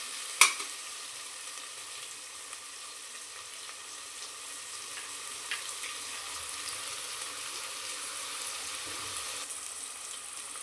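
Masoor pulao cooking in a pan gives a steady, moderate sizzle with one sharp clatter near the start and a few faint scrapes, and no one speaks.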